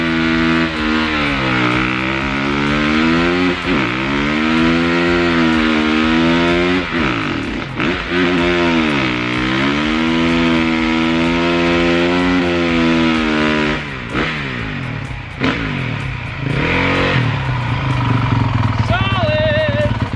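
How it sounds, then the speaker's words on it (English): A Honda dirt bike that had sat for years does a short burnout on a low rear tire, its engine revving loudly in long rising and falling surges, close to the microphone. "That was a little burnout."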